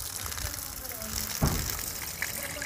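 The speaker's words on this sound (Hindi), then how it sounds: "ये देखिए फ्रेंड्स कितना शानदार इसका पानी का प्रेशर है" A homemade DC water pump running on two cells sprays water under pressure: a steady broad rushing gush, fairly close, with a brief thump midway and speech over it.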